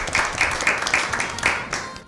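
An audience gives a short burst of rhythmic clapping at an Easter Bible quiz show after a contestant answers correctly, steady and close for about two seconds.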